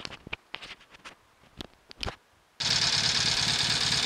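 A Norton Commando 850 motorcycle, being recommissioned after its blocked carburettors were cleaned, starts after several sharp clicks and knocks, then runs with a loud, steady, close-up engine rumble without speech.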